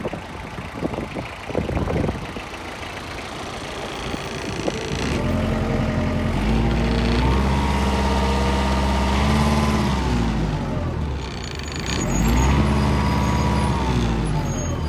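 A Mitsubishi MT245 mini tractor's small diesel engine runs steadily with a low, even rumble, its pitch rising and falling a couple of times as it revs, with faint clatter beforehand.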